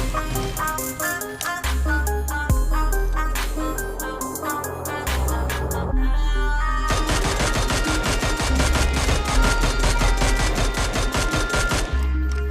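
Rapid automatic gunfire in the PUBG Mobile video game during a spray recoil test, with dense bursts of loud shots in quick rhythm separated by short pauses, close and continuous over game background sound.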